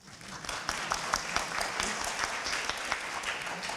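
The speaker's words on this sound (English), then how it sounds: "yes, round of applause." An audience at a keynote dialogue on international financial centers breaks into a round of applause, dense clapping that swells and holds moderately loud for a few seconds.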